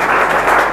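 Sustained audience applause fills the short moment, a steady dense wash of clapping at even loudness with no voices over it.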